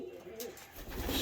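Racing pigeons returning to the loft coo softly and steadily, with low murmuring calls building toward the end against light background noise.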